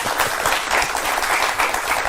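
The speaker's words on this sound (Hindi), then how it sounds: "अगर नहीं मालूम थी फिर बजाइए ताली।" Audience applause at a Hindi talk on the meaning behind Lord Ganesh, a steady wash of many hands clapping throughout, fairly close and even in level with no talking over it.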